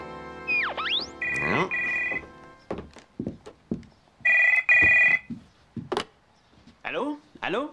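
An old-style telephone bell rings in short tonal bursts in a Spirou cartoon episode, two clear rings separated by thumps and clatter, followed by sharper chirping sounds near the end.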